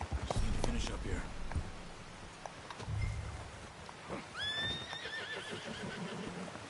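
A horse in the video game Red Dead Redemption gives a rising whinny that trails off, amid hooves and background game sounds while a person speaks.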